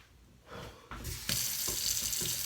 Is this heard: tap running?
yes